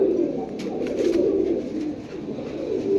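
A flock of quality pigeons at a seller's loft coos continuously, a soft, rolling murmur that swells and dips slightly, close by and with no speech.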